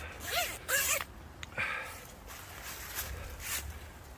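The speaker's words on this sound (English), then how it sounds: "2-way zippers there." Two-way zipper on a hot tent's bug mesh being drawn, a few quick close rasping zips in short bursts, followed by quieter rustling of fabric.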